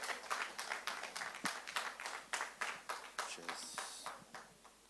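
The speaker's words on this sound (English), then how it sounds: "Can we please give him a round of hands of applause?" A small audience at a Nigerian film and TV summit gives presenter Moses Babatakwe a sparse round of applause: a handful of distinct, rhythmic hand claps, fairly quiet and close, with a brief murmur near the end.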